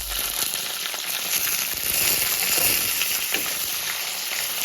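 Coconut pieces fry in hot oil with dried red chillies, giving a dense, continuous close sizzle and crackle with no talk over it.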